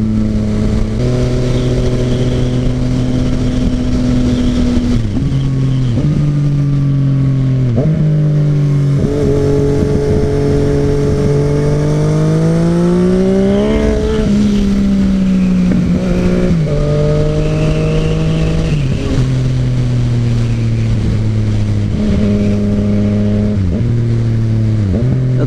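A Yamaha FZ-09 motorcycle rides through a corner on a road, its engine revving up and down in repeated surges as it accelerates out of each turn, loud and close throughout with no talking.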